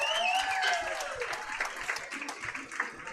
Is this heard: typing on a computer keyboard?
no